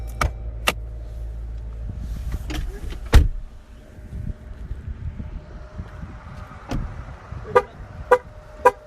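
A 2021 Chrysler Pacifica Pinnacle minivan gives short horn chirps after the driver gets out, several brief toots scattered across the clip, near and fairly clear over faint outdoor background noise.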